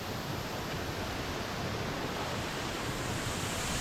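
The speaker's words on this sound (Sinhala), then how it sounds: "දැන් මං ඇල්ල වැටෙන තැනටම ඇවිල්ලා ඉන්නේ" Roaring waterfall at Upper Bambarakanda in Sri Lanka, heard from close to where the water drops. A dense, steady rush of noise fills the clip without a break, and there is no talk.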